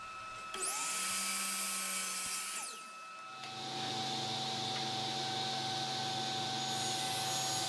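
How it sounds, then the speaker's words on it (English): A miter saw cuts wood pieces to length for bed rails and stiles, a loud high whine spinning up and biting through the board, then a steadier ringing motor drone continuing to the end with no talk. "And then we'll go ahead and cut those to length on the miter saw."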